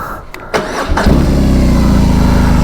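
A BMW R18 B bagger motorcycle engine cranks for about a second, then catches and settles into a loud, steady, deep idle rumble heard up close.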